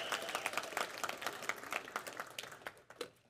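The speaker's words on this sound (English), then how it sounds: "Okay, can everyone just like laugh or something? Clap it up." A small group of people clapping in a room, a scattered burst of hand claps of uneven rhythm that thins out and fades over a few seconds.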